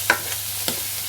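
Carrots, green beans, celery and cabbage stir-fried in a pan for pancit, a soft sizzle with three quick spatula scrapes spread across a very short moment.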